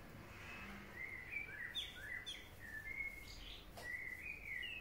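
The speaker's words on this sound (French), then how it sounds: "Vous attendez les oiseaux?" Several birds chirp and whistle in short high bursts over a steady background hiss, fairly faint and scattered throughout.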